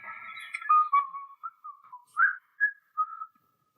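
Whistled melody of short phrases and sustained notes, clear and close, with brief pauses between them and no talking.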